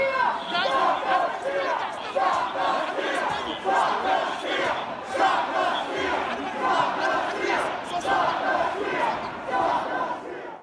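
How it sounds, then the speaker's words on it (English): Insurrectionists at the Capitol chant "Stop the steal" in a loud, dense crowd roar that rises and falls in a rhythmic, repeated pattern for the whole stretch. "You heard them chanting, "Stop the steal.""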